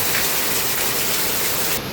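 Heavy continuous rain falling in Sri Lanka, a dense, steady wash of broadband hiss and spatter that stays loud and unbroken from start to finish with no voices.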